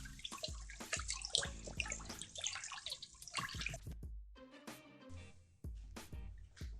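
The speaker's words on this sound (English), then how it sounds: "I even rinse my rice in the RO water" Rice swirled and rinsed in RO water in a pot, with close, faint sloshing, dripping and splashing that come in uneven bursts before a brief lull.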